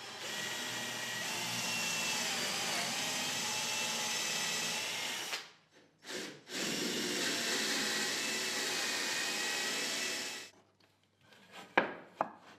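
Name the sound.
drilling holes at an angle in wood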